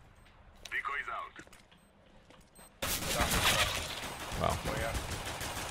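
Pistol shots from a USP in a competitive Counter-Strike match on the Cobblestone map, sharp cracks early on under a brief exclamation, followed by a louder, denser wash of noise.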